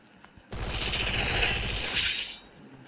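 Dense, rattling burst of gunfire from the Free Fire battle royale game, a loud continuous crackle of rapid shots lasting about two seconds before cutting off, with no voices over it.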